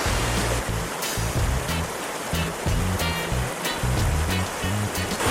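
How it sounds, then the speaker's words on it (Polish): Steady rushing water roars continuously, a broad dense wash of sound with rumbling low gusts, likely wind on the mic; no voices. "już słyszę rzekę, której wcześniej nigdy nie słyszałem"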